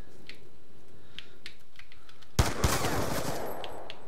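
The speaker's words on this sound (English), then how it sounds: "with the rapid fire controller, all you have to really concentrate on then is just aiming your gun" Rapid-fire video game gunshots fired with a rapid fire controller, arriving as a sudden dense burst of sharp cracks after a quiet stretch of faint ticks, loud and continuing as a sustained volley.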